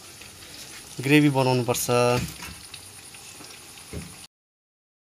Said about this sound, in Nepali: यो चिकनलाई चाहिँ अहिले मजाले फ्राई हुँदैछ